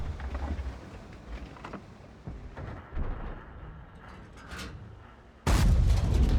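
A tank gun fires in World of Tanks on the Mines map, with a WZ-111 model 5A engaging a Leopard PTA light tank: scattered booms and thuds build to one sudden loud, close blast near the end.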